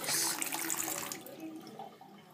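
Water runs from a tap, loud at first and then fading over a couple of seconds into softer splashing, with no talking.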